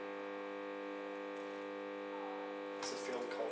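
Steady electrical hum from a transformer coil on AC mains, a faint continuous buzz with a harmonic whine, with a brief rustle or noise near the end.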